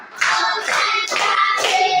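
Four bursts of hand clapping in a steady counted rhythm, with sharp claps over a voice calling along.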